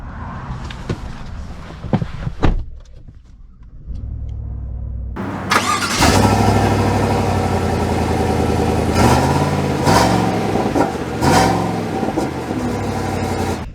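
A Chevy Silverado 1500 Trail Boss pickup engine cranks and fires up after some clicks and thumps, then idles with a steady, loud rumble that swells slightly as it revs.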